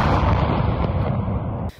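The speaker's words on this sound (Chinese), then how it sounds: "夜空中升起一团火球，伴随爆炸声响。" A night-time blast at a large ammunition depot in Toropets, Tver region, western Russia, hit in a drone strike: a loud, sustained roaring rumble that runs without a break and cuts off sharply at the end, with no voices.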